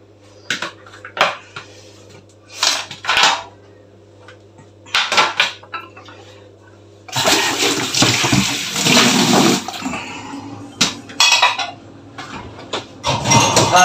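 Dishes clink and clatter in a kitchen sink, then a tap gushes steadily as they are rinsed under running water, followed by more scattered clinks of crockery.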